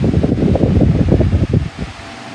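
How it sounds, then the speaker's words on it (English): A Lasko 4-speed remote control pedestal fan runs close by, its blades producing a loud, pulsing whoosh of air as it oscillates, fading toward the end. "Now we're over to oscillate the fan"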